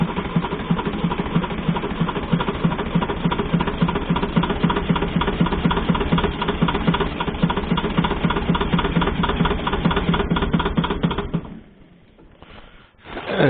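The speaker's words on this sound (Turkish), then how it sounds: "şu anda marşa basıyorum" Leyland 154 tractor diesel engine being cold started: a long, steady, loud cranking drone from the starter motor that cuts off near the end, followed by a brief lull and a few rough bursts, close and alone.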